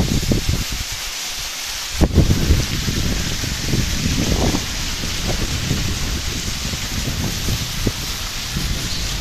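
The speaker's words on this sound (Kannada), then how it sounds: "ಜೋರು ಮಳೆ ಇದೆ" Heavy monsoon rain falling over a flooded riverside road, a dense continuous wash of drops with a rumbling low end and one brief louder burst, steady throughout with no voices.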